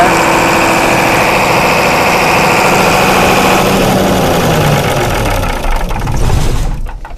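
An 82 kVA generator engine idles loudly and steadily up close, then winds down and shuts off near the end, with no talk.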